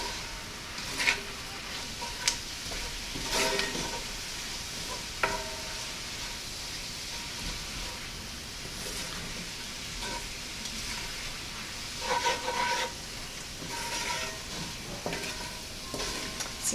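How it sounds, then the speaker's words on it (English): Spinach wilts in a hot pan with a soft, steady sizzle, broken by scattered scrapes and clinks of a utensil stirring it, close by and without speech. "Give this a stir."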